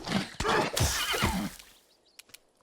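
A horse in the video game Pathfinder: Wrath of the Righteous lets out a loud, full neigh with a whinnying quaver, followed by a couple of faint clip-clop hoof taps as it fades.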